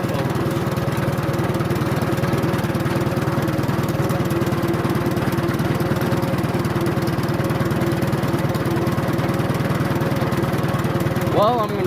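A dirt bike engine runs steadily, loud and close, with a constant droning hum throughout and no break in the sound.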